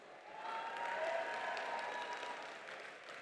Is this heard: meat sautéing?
no